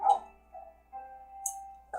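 A video game dog gives a few short, synthetic, tonal barks and yips, spaced apart over a quiet background.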